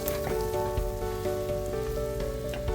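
Onions sautéing with salt in a hot pan give off a steady, soft sizzle and crackle that holds evenly throughout, with no voices over it.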